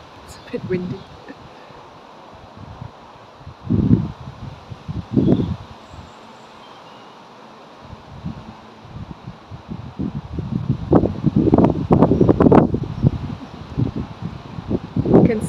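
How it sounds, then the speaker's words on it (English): Wind rumbles against the microphone in scattered bursts that grow more frequent and stronger toward the end, with quiet stretches in between. "It's a bit windy."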